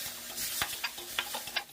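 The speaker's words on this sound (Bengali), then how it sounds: "পেঁয়াজ কুচিগুলো দিয়ে দেবো" Chopped onions fry quietly in oil in a fish curry pan, a soft, continuous sizzle punctuated by several sharp clicks of a spatula stirring against the pan.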